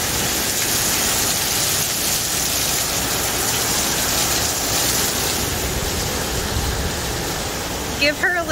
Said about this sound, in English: Now we're talking some rain.